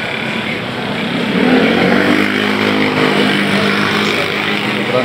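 Heavy road traffic with motorcycles in bad weather, a dense, continuous roar of engines close by that swells slightly partway through and stays loud to the end.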